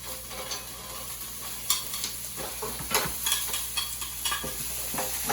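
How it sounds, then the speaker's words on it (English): Frozen green peas frying fast in olive oil, a steady close sizzle with scattered spatters and the scrape of stirring, no voices heard. "now we're going to cook the peas really fast"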